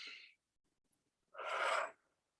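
Two breaths during a calm guided meditation: a short airy exhale at the start, then after a pause a deeper, longer in-breath, both soft and close in an otherwise silent room.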